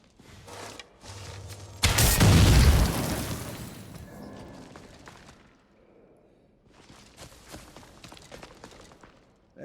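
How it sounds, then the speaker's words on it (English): A loud explosion booms in the video game Assassin's Creed Shadows, a heavy rumbling blast that fades over a couple of seconds, followed by quieter game ambience and faint movement. "There's your kaboom."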